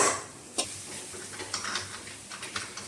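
Plantain with onion, green chili and turmeric being mixed in oil in a pan, soft sizzling under scattered spoon clicks and scrapes against the pan, quiet and close with no talking.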